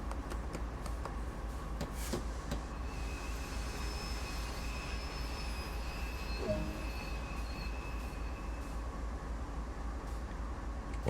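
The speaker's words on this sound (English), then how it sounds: "Bring the train to a complete stop." A train in Train Sim World 2 brakes toward a stop, with a steady low rumble of wheels on rails and thin, sustained squealing tones above it, continuous and fairly close, with no talking.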